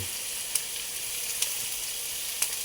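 Hot dogs sizzling in a frying pan, a steady bright hiss of frying fat running throughout with a few faint crackles and pops, close and alone without talk.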